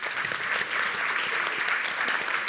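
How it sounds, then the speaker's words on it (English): An audience at a conference session gives the panelists a round of applause, a full continuous wash of clapping at steady loudness from start to finish. "please give them a round of applause"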